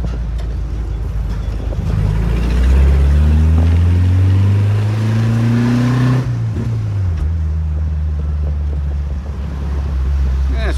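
A Volkswagen Variant 1600 accelerates, its engine rising in pitch through the gears and then dropping off before pulling again, loud and close with wind rush behind it.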